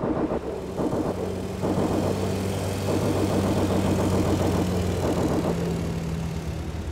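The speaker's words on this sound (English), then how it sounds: "listen to that engine purr" Tank engine idling in the World War II strategy game Company of Heroes, a steady low throbbing rumble with a regular pulsing rhythm, continuous and moderately loud without speech.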